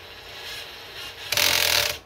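A DeWalt gyroscopic powered screwdriver whirs, then its clutch slips with a louder rapid ratcheting buzz near the end to stop over-tightening, heard close up and alone.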